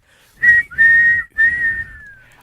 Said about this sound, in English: blow the whistle. Blow the whistle.